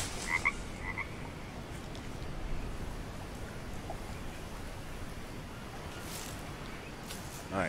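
Frogs croak in a steady, dense chorus across the jungle ambience of the survival game Green Hell, with a few brief brighter chirps standing out near the start and end.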